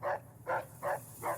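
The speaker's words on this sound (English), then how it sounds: "Shut the fuck up, dog." A dog barks four times in an even rhythm, fairly close and moderately loud, with a low hum underneath and no talk.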